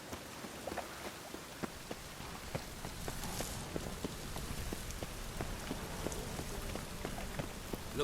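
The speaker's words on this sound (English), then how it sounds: "And it's raining again." Steady rain falls in the video game The Witcher 3: Wild Hunt, a dense, even hiss of drops pattering on surfaces with scattered sharper taps, continuous and close with no talking.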